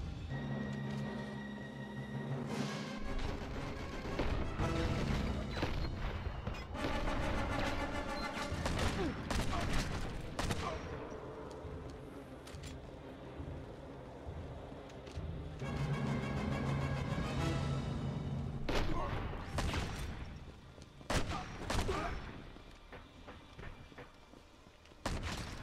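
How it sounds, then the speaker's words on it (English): An auto shotgun firing in the game Enter the Matrix, with repeated heavy blasts, thumps and bursts of gunfire over loud game sound, coming in clusters with short gaps and occasional voices. "Oh, I got an auto shotgun."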